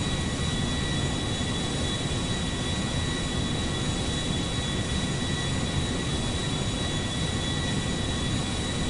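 Boeing 747 jet airliner in Grand Theft Auto, a constant loud roar of engines with a thin high whine, unbroken and even for the whole stretch.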